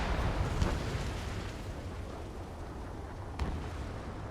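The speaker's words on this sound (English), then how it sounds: "Missile away." Missile launch and explosions in the Ace Combat 7 air-combat video game: a dense, continuous low rumble with two sharp bursts, one near the start and one late, and no voices.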